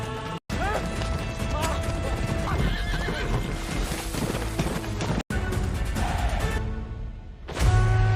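Horses gallop in a horse race, with fast thudding clip-clop hoofbeats and whinnies over a loud, busy mix of crashes and commotion, sustained for several seconds.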